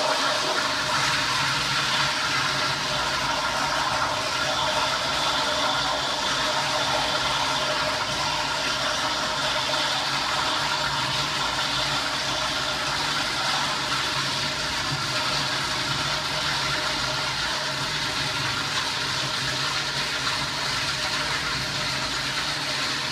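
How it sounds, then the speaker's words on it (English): A Crane Placidus toilet in a high school restroom gives one very long flush, a steady rushing and gurgling of water that stays loud and constant throughout, with no voices. "Very long flush for this Crane Placidus."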